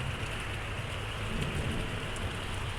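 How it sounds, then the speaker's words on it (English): Heavy rain pours steadily in a thunderstorm, with low thunder rumbling underneath, loud and continuous with no voices. "Now the thunder's getting a little bit crazy."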